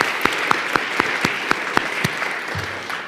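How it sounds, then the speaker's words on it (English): An audience applauds two organizations at an evening event on farm bill impacts on SNAP in Arkansas, steady clapping from a sizeable crowd with sharp individual claps standing out, fading near the end. "So let's give both of those organizations a round of applause."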